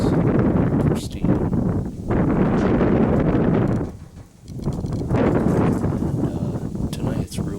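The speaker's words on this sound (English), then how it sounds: "And tonight it's real windy." Strong wind gusts buffet the microphone at an off-grid deer camp in Michigan's Upper Peninsula, a loud rushing roar that swells and dips, dropping briefly before surging back.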